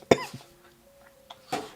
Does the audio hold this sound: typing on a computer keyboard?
no